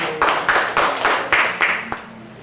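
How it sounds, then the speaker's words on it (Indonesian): A school class clapping hands together in unison, several rhythmic rounds of group claps spaced about a quarter-second apart, ending with a single final clap in a classroom. "Tepuk tangan dulu."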